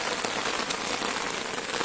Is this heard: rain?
yes